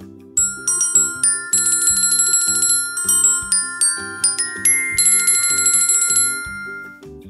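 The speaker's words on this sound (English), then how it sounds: "Bell." Bright metallic bell rings in a series of repeated strikes, some quick and clustered, each leaving a sustained high ringing tone; loud and close with no voices.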